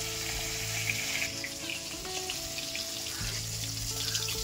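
Koi fish fry lightly in oil for a Bengali tel koi curry, a continuous loud sizzle and crackle close by, with some faint kitchen clatter and water noise.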